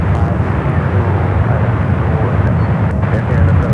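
A Lufthansa Boeing 747-400 at San Francisco airport roars loud and close with steady, broadband jet noise that lasts throughout.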